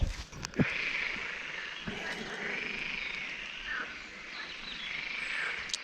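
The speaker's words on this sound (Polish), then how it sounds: "Słyszycie te żaby?" Frogs croak in a continuous chorus some distance away in a small wood, a faint rolling trill with a few close clicks and knocks at the start.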